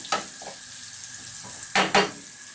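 Peeled whole shallots go into a pan over low heat, giving a few short sizzling bursts and stirring clatters, with two louder bursts near the end.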